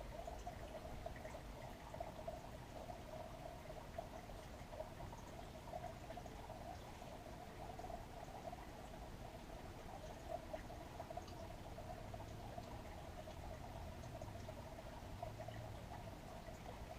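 Liquid soft plastic pours steadily into a plaster bait mold, a faint, continuous trickle with no talk.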